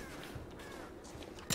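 Crows caw a few times at a distance in a quiet Rise of the Tomb Raider outdoor area, faint calls scattered over low ambience, ending with one brief louder clatter.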